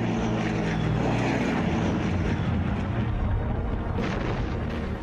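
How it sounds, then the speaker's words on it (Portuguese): Japanese bomber aircraft with propeller engines, a loud, steady, dense roar of engines that fills the whole stretch without pause. "Inesperadamente, aviões de bombardeios japoneses atacam."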